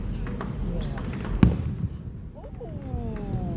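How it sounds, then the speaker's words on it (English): A Fourth of July firework gives one distant, sharp pop over quiet outdoor ambience, with people talking softly nearby afterward. "other fireworks right now"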